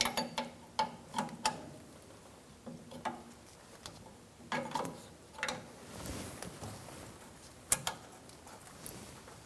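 A 13mm wrench works the rear center brake hose fitting on a 2014-2018 Chevrolet Silverado, giving a string of faint metallic clicks and ratchety ticks, irregular and close, with short pauses between turns.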